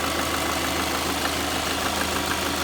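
A 2007 Subaru Forester engine idles after a head gasket repair, a steady, even mechanical hum with faint ticking, close and unbroken throughout.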